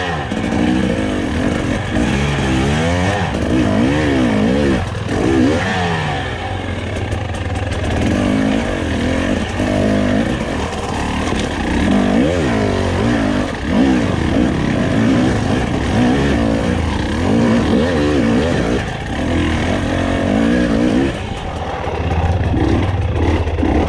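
A 2021 Husqvarna TE300i dirt bike engine roars loud and close on a break-in trail ride, revving and bogging continuously as the rider shifts gears, with no other sound.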